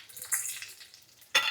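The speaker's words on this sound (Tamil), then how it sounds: "தீயலுக்கு கடுகு போட்டிருக்கேன்" Mustard seeds sizzle and crackle in hot oil while tempering Kerala theeyal, with sharp bursts of spitting and a louder crackle near the end, close and alone.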